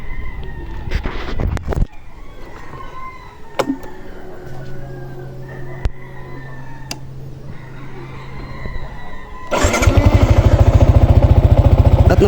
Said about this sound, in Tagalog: At napansin ko mukhang gumanda yung hubong ng kanyang makina